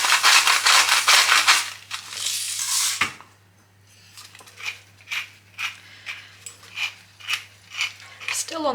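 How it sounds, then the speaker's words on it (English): Pepper is cracked from a grinder over diced venison: a run of short, rhythmic crunching grinds up close, following a louder burst of clattering kitchen noise. "Still on the hunt for a good pepper grinder. This one's a bit hit and miss"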